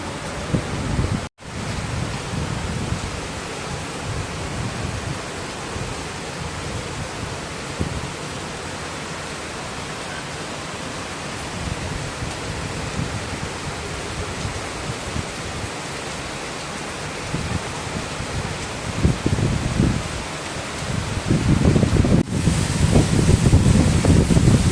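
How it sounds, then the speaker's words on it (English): Heavy rain after a typhoon falls at a pagoda in Kaohsiung, Taiwan, as a dense steady hiss with low gusty rumbles. The rain swells louder toward the end, with a short dropout early on. "Heavy rain, even though the typhoon has left"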